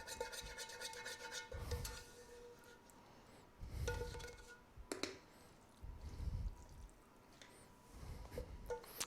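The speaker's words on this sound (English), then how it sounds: "Scrape out the pan." A utensil scrapes leftover mac and cheese out of a baking pan, soft rasping strokes repeated in four or five bursts, close but quiet, with no talking.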